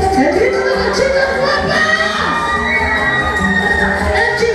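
A crowd of girls screams and shouts in a loud, continuous roar at a family baptism and presentation party, with cheering voices blending throughout.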